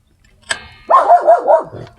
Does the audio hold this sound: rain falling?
no